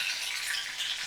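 Beans and eggplant fry in hot mustard oil with a brief, steady, hissing sizzle, close and unbroken, with no voices.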